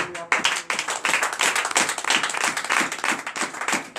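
Church congregation at a night deliverance and prophecy service clapping loudly, with quick, uneven, rhythmic claps crowding together, close and sustained throughout.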